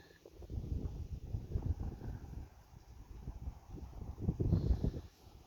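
Low, blustery wind buffeting the microphone, rumbling in uneven gusts with a stronger burst near the end.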